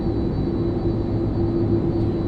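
Steady drone of the Airbus A330-200 twin jet engines in the iniBuilds simulation for Microsoft Flight Simulator 2024, a constant mid-level whine with a fixed tonal hum, unchanging and uninterrupted.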